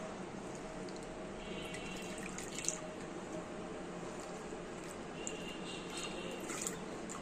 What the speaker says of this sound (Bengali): দেখি এখন ধুয়ে নেই ধুয়ে পরিষ্কার করে তারপরে পরিষ্কার পানি দিয়ে রাখি